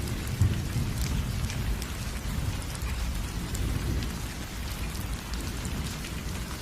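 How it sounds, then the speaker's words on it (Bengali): Heavy rain pours steadily in a village during a sudden storm, a dense, even roar of drops with deep thunder rumbling underneath throughout, and no speech. "আর তখনই আচমকা প্রচুর বৃষ্টি শুরু হয়।"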